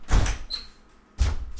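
A door swings shut in two bursts, a soft thud and brief high squeak followed by a louder second knock, close by with no talk.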